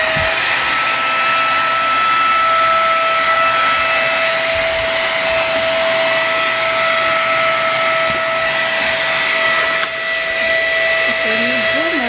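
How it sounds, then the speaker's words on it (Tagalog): A vacuum cleaner running beneath a bed frame under repair, a loud steady whine and roar throughout with a constant pitched tone, briefly dipping near the end. "i-vacuum lang natin siya"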